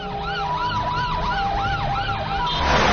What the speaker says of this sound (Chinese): 10分钟后，民警赶到了现场，救护车也随即到达